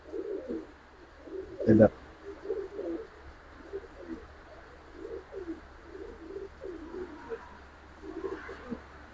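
Indian Kaldom pigeons coo in soft, repeated low phrases close by, with a brief sharp knock near the start, while someone speaks briefly among them.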